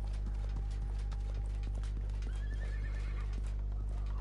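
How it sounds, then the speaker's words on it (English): In the video game Realm Royale, a horse whinnies over steady clip-clop hoofbeats, with the neigh rising near the end and a constant low hum underneath. "Horse sound over on the left somewhere."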